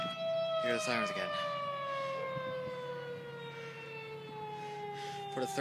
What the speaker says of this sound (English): How do they keep getting these sirens going off?